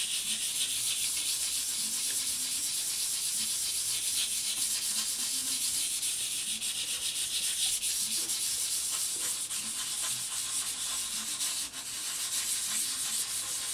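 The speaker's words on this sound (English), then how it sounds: "Get some water, and you're gonna sand in a circular pattern." Steady, hissy scraping of wet sandpaper worked in small circles over an aluminum surface, close and continuous throughout, with a faint muffled background noise underneath.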